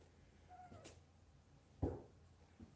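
A three-year-old pet cat gives a few faint, brief meows and chirps in a quiet room, spaced apart against near silence.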